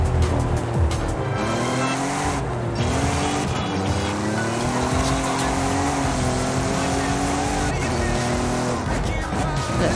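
A Jeep Gladiator driven in the Forza Horizon 5 racing game, its engine droning loud and close with rising and falling revs, gear changes and occasional tire squeal, game music and effects layered underneath.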